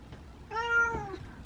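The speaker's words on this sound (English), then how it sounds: "where they meow, but they meow with their mouth closed" A single drawn-out cat meow lasting about half a second, clear and close, with a rising then falling tone and quiet room noise around it.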